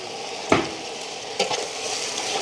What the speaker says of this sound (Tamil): தக்காளியும் சேர்ந்து அப்படியே வதங்கட்டும்